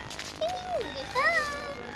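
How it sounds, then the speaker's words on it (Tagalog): A cat gives two short, soft meows close by, the second a little higher and wavering, over faint background noise. "may pusa oh"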